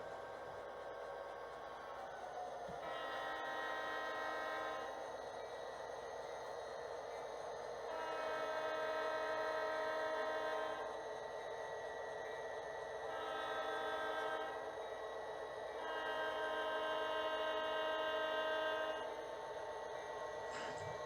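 HO scale model train running on a layout with its horn sounding in repeated long blasts over a steady rolling hum, clear and continuous throughout.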